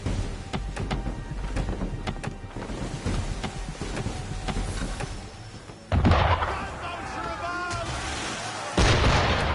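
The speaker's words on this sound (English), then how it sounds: "Why is he shooting at us?" Cannon fire from a shore battery booms at a sailing ship in Assassin's Creed III, heavy blasts and crashes rolling over sea ambience, with a sharp louder burst near the end and shouted voices between.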